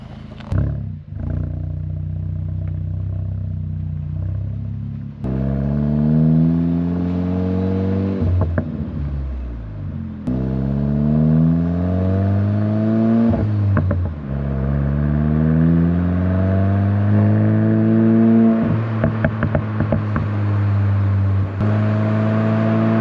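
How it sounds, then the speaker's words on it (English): A VW MK8 GTI with a 034 Motorsport tune revs up repeatedly, loud rising exhaust pulls followed by crackling pops and burbles on the overrun, recorded close behind the car. "the exhaust and the crackles, the popcorn, burbles, whatever you want to call them."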